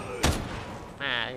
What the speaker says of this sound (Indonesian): Nah, dia tembak.